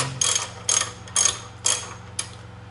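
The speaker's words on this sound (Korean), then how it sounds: "여러분 드디어 풀었어요. 소리 들었죠? 빡! 하는 소리." Five sharp metallic ratcheting clicks from a ratchet wrench on a tight bolt of a 1997 Harley-Davidson Electra Glide, in an even rhythm, close and fairly loud, each a quick burst with brief quiet gaps between.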